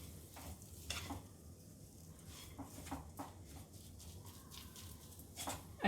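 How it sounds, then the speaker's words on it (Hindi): Banana tikki mixture being stirred and mixed by hand in a bowl, with soft, irregular scraping and squelching strokes repeating close by, and no voices. "अब इसमें अच्छा मिक्स कर लीजिए"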